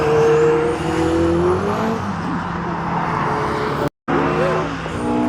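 A Ford Sierra RS 500 race car lapping a circuit, its engine droning loud and steady with shifting pitch and a brief cut near the end.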